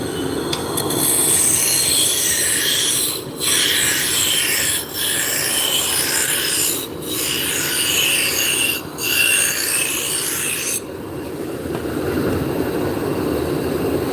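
A wood lathe runs flat out at its top speed of 3,629 RPM, throwing off a steady, loud rasping whir. Short dips in the sound come and go before the motor tone falls quieter near the end.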